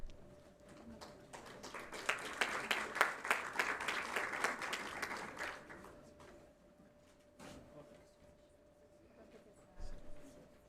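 An audience at a university research plan launch breaks into applause that builds quickly, peaks for a few seconds and then fades, followed by quieter room sounds and a brief knock near the end.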